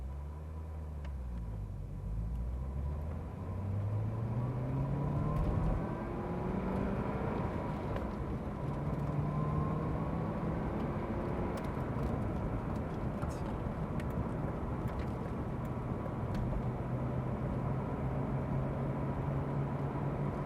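A 2009 Chevrolet Corvette ZR1 at Celebrity Cars Las Vegas pulling away in first gear, its engine note climbing steadily in pitch as it accelerates, heard up close from inside the car.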